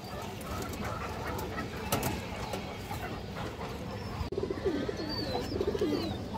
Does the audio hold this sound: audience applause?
no